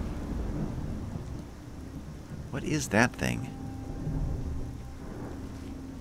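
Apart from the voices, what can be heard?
thunder and rain in the video game Skyrim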